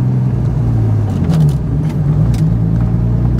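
A manual car pulls away in second gear during a driving lesson, its mid-pitched engine hum steady and fairly loud throughout with a slight rise in revs, no talking over it.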